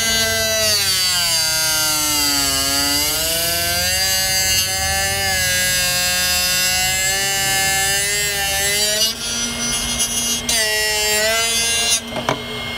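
A Drill Doctor 750X sharpener grinds a drill bit, a loud, steady motor whine that shifts in pitch as the bit is pressed in, ending with short rattling bursts.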